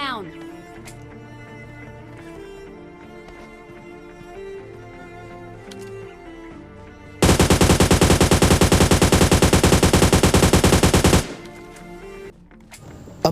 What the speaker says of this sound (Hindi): तभी मेरे पे फायर आता है राइट साइड से